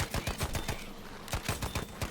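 A Grease Gun submachine gun firing in Battlefield V: two rapid bursts of evenly spaced shots with a short pause between them, fairly quiet and heard alone.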